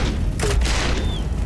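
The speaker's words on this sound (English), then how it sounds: "Grenade!" A grenade explosion in the sci-fi tactical game Aliens: Dark Descent, a dull booming blast with a short burst of debris noise over loud ongoing game sounds, without talk.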